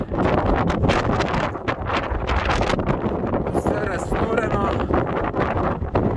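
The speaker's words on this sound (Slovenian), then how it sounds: "piha ful." Strong wind roars across the summit of Plješevica mountain beside an abandoned military building, buffeting the microphone in loud continuous gusts while someone talks over it.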